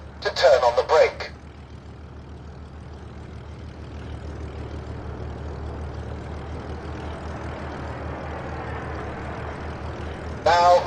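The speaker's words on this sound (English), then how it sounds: "After touchdown, I can use my brakes to reduce speed" An aircraft engine winds down as the plane brakes after touchdown in the Birds of Steel game on Xbox 360, a low steady droning rumble underneath, with short bursts of louder effects at the start and end.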